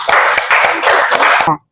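Pupils in a classroom clap together for a classmate in a quick rhythmic pattern of sharp, close claps while voices chant along, then it stops abruptly.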